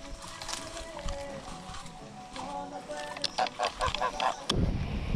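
Geese honking by Laguna el Encanto where people are out fishing for mojarras, a run of short, evenly spaced calls rising near the end over steady outdoor background noise, with voices talking.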